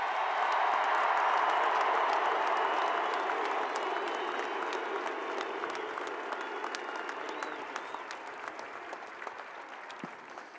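Huge stadium crowd at Sanford Stadium's Dooley Field cheering and applauding Georgia's 15-0 back-to-back national championship football team, a vast roaring wall of clapping and cheers that slowly fades and thins over ten seconds.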